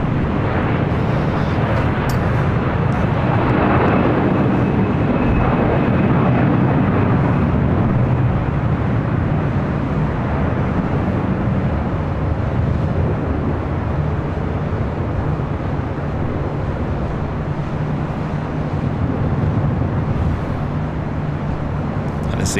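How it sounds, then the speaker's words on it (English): An SAS Airbus A330 takes off on runway 25 right at LAX, bound for Copenhagen; a continuous heavy engine rumble with a low tonal drone persists throughout, with talk over it. "The SAS A330 heading back to Copenhagen, taking off on 25 right on the south side"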